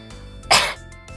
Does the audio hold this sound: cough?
yes